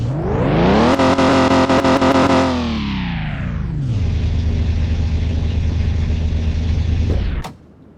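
A loud car engine in Car Mechanic Simulator 2021 cranks and roars to life, revving high before settling into a steady rumbling idle, then cuts off abruptly.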